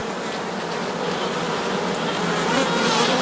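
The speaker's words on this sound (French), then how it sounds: "il y a quelques abeilles qui sont un petit peu coincées" Honeybees buzzing densely around an opened hive during a check of the supers, a close, continuous droning hum that swells slightly louder toward the end.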